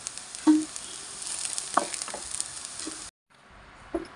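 Cluster beans fry in oil in a pan, a continuous close hiss with occasional stirring knocks, cutting off abruptly before a quieter sizzle and a final clack.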